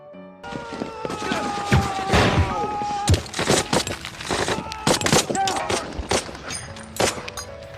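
Battle gunfire from a World War II film: rapid, loud bursts of shots and sharp cracks at the German 88 gun position, with thuds and shattering mixed into a dense, continuous barrage.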